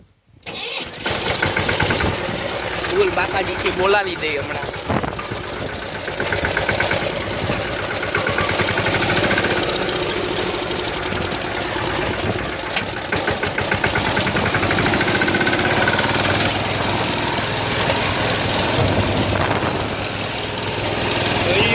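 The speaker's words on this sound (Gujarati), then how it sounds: "ચાલુ કરી ટ્રેક્ટર, જોઈ લેજો જરાક." A tractor engine turns over and settles into a steady, loud idle that runs throughout, with someone speaking briefly over it near the start.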